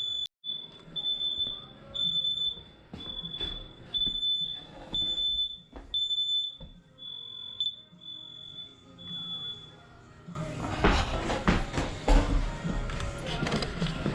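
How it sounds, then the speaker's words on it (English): A smoke alarm beeps in a rapid, steady series of piercing tones for about ten seconds, then stops. Clattering, rustling noise follows. "there's smoke detectors all over the building"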